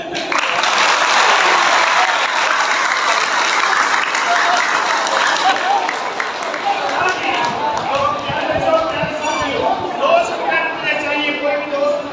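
Audience applause at a live magic show, a loud, dense burst of clapping that holds steady for about twelve seconds and thins toward scattered claps near the end.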